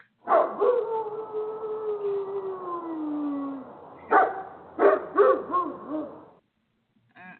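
A dog howls in one long, falling wail, then after a brief pause gives several loud, close barks and yelps, with no talking over it.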